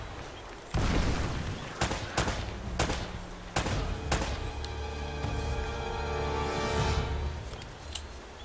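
Gunfire in Uncharted, a string of loud sharp shots in quick irregular bursts with echoing tails, over a background of game sound and music.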